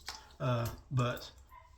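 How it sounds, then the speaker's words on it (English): Two dogs howl nearby in two drawn-out, wavering calls, one right after the other, then fade to a faint whine. "my dogs are both howling"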